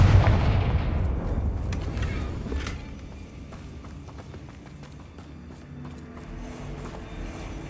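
Confringo spell explosion in the game Hogwarts Legacy, a heavy blast at the start that fades into scattered crackles, clatter and smaller impacts, close and moderately loud, with no talk.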